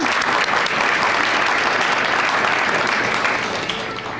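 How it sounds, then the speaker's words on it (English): A neighborhood honor roll audience applauds steadily for an honoree at a St. Paul community event, a dense, even wash of many hands clapping that holds loud for about four seconds and eases slightly at the end. "Okay, clapping."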